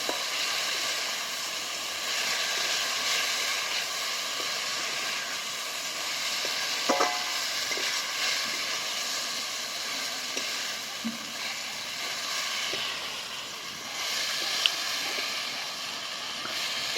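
Egg curry masala for a dhaba-style village dish stir-fried in a pan with a little water, giving a continuous steady sizzle and hiss with occasional faint scrapes and knocks of stirring.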